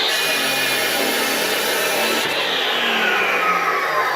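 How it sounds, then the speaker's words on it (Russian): Chop saw with a 350 mm abrasive cutting disc slicing through brick, a continuous loud grinding whine with gritty rasp and no talk. "Такой вот диск фирмы Сибртех и поставить его на монтажную пилу"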